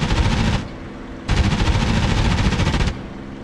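Rapid aircraft cannon fire from a P-51 Mustang in a combat flight video game: two loud, sustained bursts of fast repeating shots separated by a short pause, with no talking.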